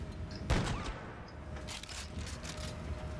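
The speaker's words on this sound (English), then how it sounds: "I heard you shoot and then reload." Gunfire in the Dead Space 3 video game: one sharp shot punctuates a low, busy background of in-game ambience, followed by faint mechanical rattles.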